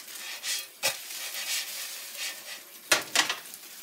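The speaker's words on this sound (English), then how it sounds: "last egg is cooking up" An egg frying in a pan for a breakfast of hash browns and bacon gives a soft, steady sizzle, broken by a few sharp clicks and scrapes of a utensil against the pan.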